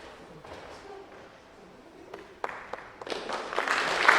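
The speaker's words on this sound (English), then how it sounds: "we'll do a round of applause" Audience applause at a high school senior awards night, starting sparse and quiet, then swelling after a few seconds into fuller, louder clapping from a crowd in a hall.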